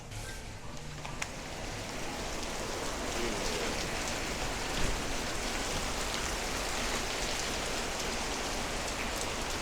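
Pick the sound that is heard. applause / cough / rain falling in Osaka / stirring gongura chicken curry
rain falling in Osaka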